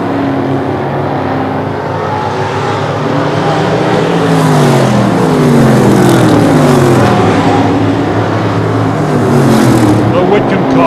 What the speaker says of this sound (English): Down the back straightaway, Tom Borello continues to set the pace.